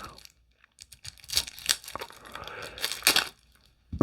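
Plastic shrink wrap tears and crinkles off a Steampunk Tarot deck in a few close, quiet bursts separated by short pauses.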